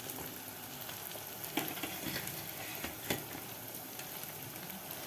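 Tomatoes sautéing in a clay pot for vegetable biryani, a soft hissing fry with occasional stirring scrapes, fairly faint and even with no voices.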